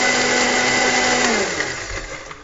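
A blender grinds pesto ingredients, nuts and water together at a loud, steady whir that starts full and then winds down near the end.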